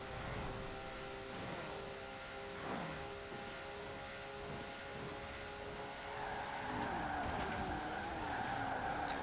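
A 1971 Porsche 917/20 race car roars steadily in Forza Horizon 4, its engine whine holding high and constant, then rising in pitch near the end as tires squeal and skid through a corner.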